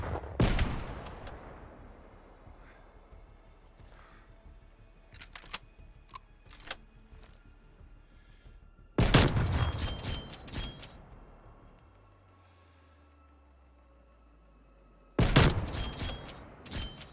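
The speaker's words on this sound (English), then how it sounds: "Next up, to get a little bit of different perspective, we're using a sniper rifle" Sniper rifle shots in Call of Duty Black Ops Cold War: three sharp, loud reports spaced several seconds apart, each followed by a brief decaying echo, with quiet game ambience and faint clicks between them.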